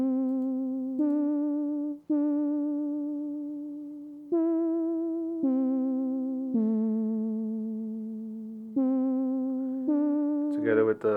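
A synth lead plays a top-line melody alone, held notes stepping between pitches with slight vibrato and gradual decays, ending in a brief brighter flourish.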